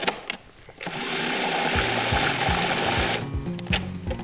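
A food processor grinding pesto with Parmesan cheese, starting with a few clicks and rattles before settling into a steady whirring motor drone with a rhythmic pulsing chop, then slowing with clatter near the end.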